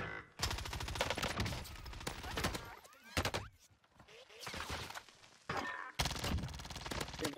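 Rapid automatic gunfire from a MAC-10 submachine gun in the Call of Duty Warzone video game, coming in loud, dense bursts separated by short gaps, with a voice briefly speaking between the volleys.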